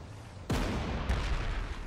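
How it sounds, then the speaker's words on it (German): Artillery fires in the strategy video game Panzer Corps 2: a sudden heavy boom with a rumbling tail, followed about half a second later by a second, softer blast, set against quiet game ambience. "Wir haben Artillerien. Die kann da schon mal drauf knallen."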